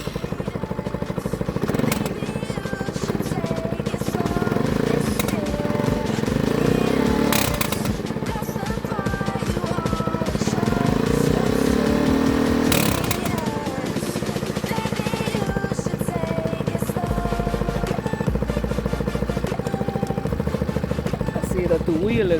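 A Baotian Sprint scooter engine runs right after a carburetor cleaning, its steady buzzing clatter continuous and fairly loud throughout, with voices talking over it.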